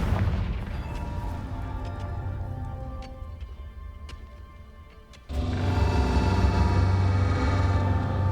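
A deep, loud blast from a Confringo spell in Hogwarts Legacy booms midway through, followed by a sustained heavy rumble, with lighter clinks and game ambience before it.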